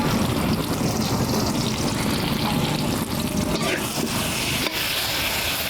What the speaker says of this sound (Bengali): এই তেলে এবার পটলটাও ভেজে নেব।